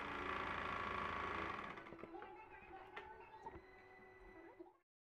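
A sewing machine stitching sleeves onto a readymade dress makes a steady, fast motor whir at close range for under two seconds. Quieter mechanical clatter follows, then the sound stops abruptly.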